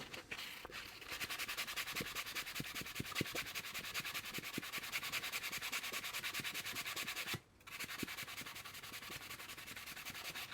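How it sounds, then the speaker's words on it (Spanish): A superfine sanding sponge rubs along a restored 1995 Orvis Trident fly rod in quick, steady back-and-forth strokes, close and soft, with one brief pause near the end. "Y ahora lo vamos a afinar con una esponjita súper fina."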